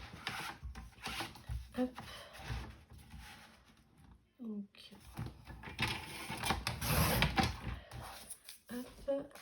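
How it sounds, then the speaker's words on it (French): Sheet of paper sliced to 20 cm with a guillotine paper cutter (massicot), a short mechanical cutting action set among handling noises while a person talks throughout. "Donc là je vais la couper sur 20 avec le massicot."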